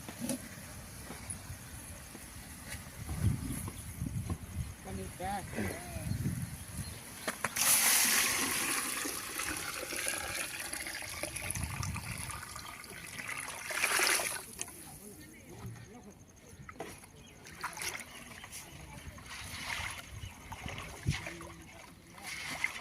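Water poured into a cooking pot during home cooking of a meat feast, with sloshing and splashing bursts amid talk in the background.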